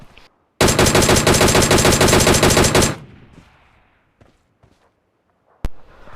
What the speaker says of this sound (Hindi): मैं उस बंदे को एक डीपी का स्प्रे देने की कोशिश करता हूँ